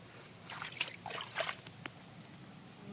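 A faint, quiet trickle of water from a pipe with light splashes and drips, soft and irregular.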